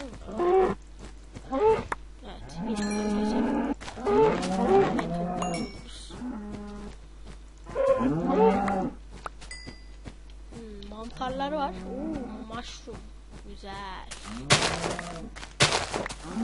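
Cows in the video game Minecraft moo repeatedly, several loud, close, drawn-out lows overlapping at times, with short gaps and clicks between them.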